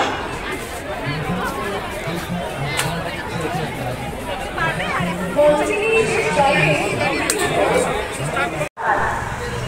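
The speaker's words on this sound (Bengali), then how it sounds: "এত আওয়াজ এত ভিড় হয়েছে আজকে" Dense crowd chatter and hubbub at a busy fair, many overlapping voices close by forming a loud continuous babble with a brief cut near the end.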